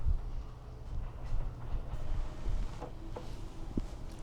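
A Kintetsu Suzuka Line train pulls out of a rural station, a low rumble with occasional clicks and clunks from the rails, fairly quiet and heard from the platform.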